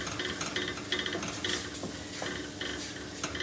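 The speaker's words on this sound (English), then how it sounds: "Right, give that a stir in." Chicken dopiaza is stirred in a pan, a spoon scraping and clinking repeatedly against the metal at an irregular pace over a low sizzle, with no voices.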